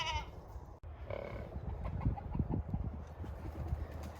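A goat bleats near a nervous, thin horse outdoors, a few wavering cries early on, then low shuffling and rustling noises with faint bird-like chirps in the background.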